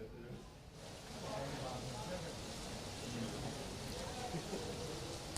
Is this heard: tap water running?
no